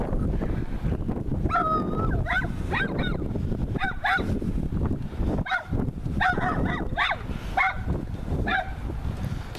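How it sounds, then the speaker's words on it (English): A puppy shut inside a parked car outside a municipal centre in O'Fallon, with repeated honk-like barks and whimpers coming through steadily over a constant background rumble. "Oh, poor puppy, stuck in the car."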